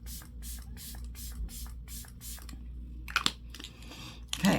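A setting spray is pumped in a run of six short, even hisses, close and clear, followed by rustling and handling noises.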